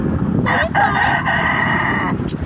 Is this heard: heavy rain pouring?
no